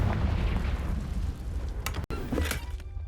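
A Confringo fire spell blasts out with a deep, rumbling boom inside a dusty, cobwebbed room in a wizarding video game, a loud explosion that rolls on over about three seconds with a couple of sharp bright cracks near the end.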